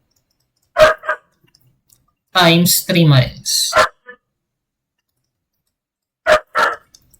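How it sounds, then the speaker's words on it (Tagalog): Dogs at home let out two quick pairs of sharp, close barks, separated by someone speaking in a quiet room. "pasensya na lang doon sa mga aso namin dito"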